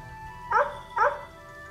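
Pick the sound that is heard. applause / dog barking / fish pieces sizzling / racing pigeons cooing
dog barking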